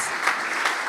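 Steady applause from an audience, dense clapping with no pauses, fairly loud and continuing throughout.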